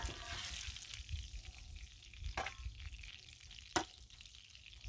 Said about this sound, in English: It will also continue to crisp in the pan.